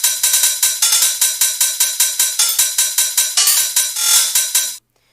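A drum and bass style pattern of bright, clicky percussive hits in quick rolls, with accents rising and falling in loudness, plays dry and alone before cutting off abruptly.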